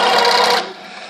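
A sewing machine runs after its thread tension has been balanced, a steady dense whirr of stitching that drops to a softer, quieter run about halfway through.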